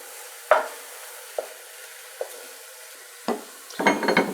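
Ground lamb in a pot being stirred and broken up with a spoon: a few separate scraping knocks spaced across the moment, then a denser burst of clattering stirring near the end, with a faint sizzle underneath.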